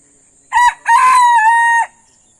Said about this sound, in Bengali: মোরগ গুলো হচ্ছে খায় কম কিন্তু দুষ্টিমি করে বেশি